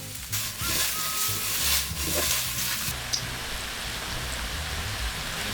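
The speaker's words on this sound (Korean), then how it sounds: "버터를 거의 버터를 튀겨주다시피 할 그 정도 넣어줄 거예요" Potatoes frying in a pan in a generous amount of butter give a steady, close crackling sizzle, dense and continuous like rain on a surface, with no talking.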